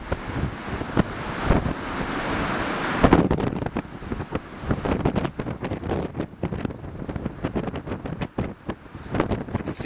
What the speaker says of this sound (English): You can see it's very, very, very windy today.